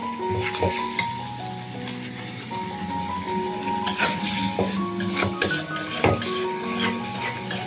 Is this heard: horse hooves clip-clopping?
no